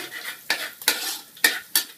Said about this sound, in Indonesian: lagi masak nasi goreng